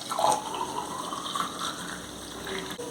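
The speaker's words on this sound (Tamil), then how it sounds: "தண்ணியும் நம்ம வேணுங்கிற அளவுக்கு இதில் சேர்த்திக்கலாம்" Water pours steadily into spiced buttermilk (masala mor), a close, continuous trickling gush that stays even throughout.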